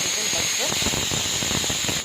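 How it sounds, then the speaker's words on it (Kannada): A pressure cooker cooking egg biryani vents steam in a continuous loud hiss with sputtering bursts, close and unbroken for about two seconds. "ಇದು ಕುಕ್ಕರ್ ವೆಯ್ಟು ಬಿಟ್ಟಿದೆ"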